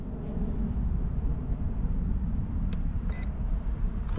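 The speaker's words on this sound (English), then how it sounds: "wait for it to beep." RC helicopter (RTRHobby C186 MAX ready-to-fly) restarting after holding the auto-up button, with a few short electronic beeps standing out over steady outdoor wind rumble.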